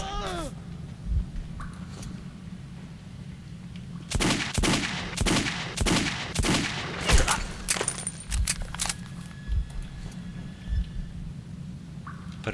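Automatic gunfire in the video game Metro 2033 comes in a dense cluster of sharp rapid shots in the middle of the clip, with quieter thuds and scattered single shots after, set against a low rumbling background.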